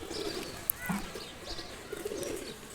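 Soft cooing of tournament-flying pigeons with a few brief chirps and a sharp click, fairly close, over a low background murmur.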